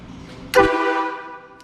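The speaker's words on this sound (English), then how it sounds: "just a little honk." A bus air horn lets out one loud, brassy honk that begins abruptly, sustains for about a second and then fades, after a stretch of low rumbling background.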